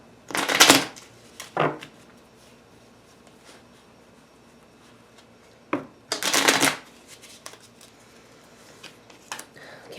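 A deck of tarot cards is shuffled in several bursts of crisp riffling and flicking, close up, with quieter handling and a few taps between the bursts.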